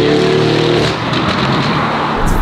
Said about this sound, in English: Now this car has got a custom race exhaust system with a downpipe.